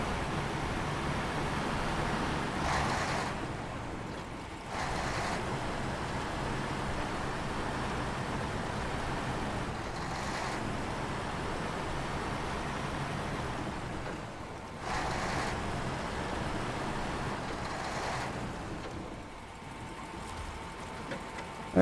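A truck engine idles steadily in the snowy off-road driving game Snowrunner, a constant broadband rumble with a few brief dips and swells over about twenty seconds.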